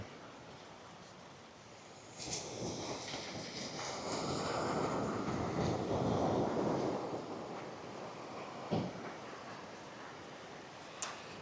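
Waves and wind at Kewarra Beach near Cairns on a hazy, miserable day, a soft wash of surf building and easing with gusty wind buffeting the microphone, no talk.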